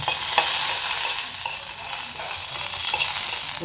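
Chillies frying in hot oil in a pan, giving a dense, loud crackling sizzle that runs on without a break, with a few faint scrapes and no voices.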